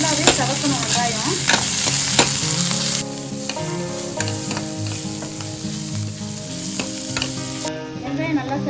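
Onions frying until browned in a pan for chicken kuzhambu, a loud close sizzle with repeated scraping stirs of a spatula, while background music plays along without speech.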